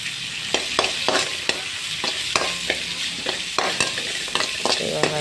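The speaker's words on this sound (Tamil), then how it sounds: "பச்சை நிறம் பச்சை வாசம் போகிற அளவுக்கு நல்லா வதங்கட்டும்" Ingredients for a tamarind curry with manathakkali berries sizzle in a pan while being stirred, with steady frying hiss broken by repeated sharp scrapes and taps of a spoon against the pan.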